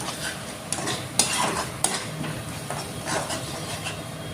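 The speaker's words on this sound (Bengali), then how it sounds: "দই দিয়ে ভালো করে মশলাটা কষিয়ে নিব।" A thick spice paste with sour yogurt is worked around a pan for a malai paneer curry, with repeated scraping strokes and sharp spatula taps over a soft, steady sizzle, close by.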